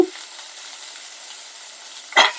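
Onions and vegetables sauté in a pan with a soft, even sizzle, then a brief louder burst of frying near the end; no voices.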